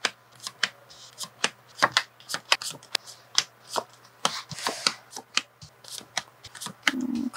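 Tarot cards are shuffled by hand in a quiet room, a run of crisp riffles and flicks in an irregular rhythm, close and clear with no talk over them.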